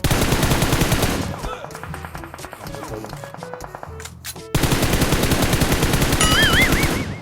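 Rapid automatic gunfire from a shooter game played on an iPhone 12 Pro Max rattles in dense, loud bursts, dropping to quieter scattered shots midway before a heavy burst resumes, with a voice speaking briefly.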